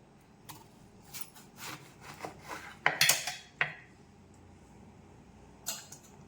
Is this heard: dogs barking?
no